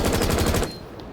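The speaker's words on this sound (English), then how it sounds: "So now I'm going to be shooting at this wall, trying to compensate for it, just so you can sort of get a general idea of how tight you can get the spread" Thatcher's weapon in Rainbow Six Siege fired at a wall: a single rapid automatic burst of about eight close, loud shots, ending abruptly with a brief ringing tail.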